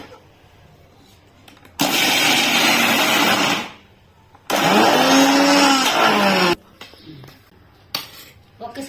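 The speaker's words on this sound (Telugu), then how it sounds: "బాగా వడకట్టి దీంట్లో మిక్సీలో వేస్తున్నానమ్మా" An electric mixer grinder blends strained batter for Srihari pakodi in two loud, steady whirring bursts of about two seconds each, separated by quiet gaps.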